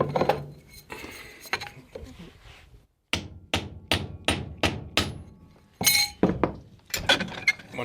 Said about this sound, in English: I proceed to whack the blade in with the hammer